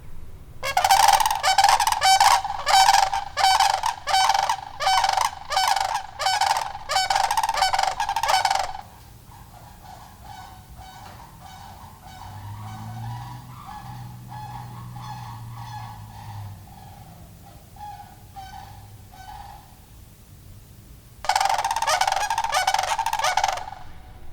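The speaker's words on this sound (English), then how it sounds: "As cool as the sandhill cranes are to see, sometimes they can be a little obnoxious when I'm trying to film." Sandhill cranes give loud, rapid rolling bugling calls in repeated bursts, close by, then fall quieter with fainter calls and a low rumble before another loud burst of calling near the end.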